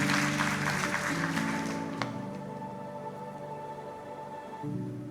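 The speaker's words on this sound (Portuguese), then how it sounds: "Dá um aplauso para Jesus, por favor." Church congregation applauding, a broad steady wash of clapping that gradually fades out, with organ or keyboard tones sustained underneath.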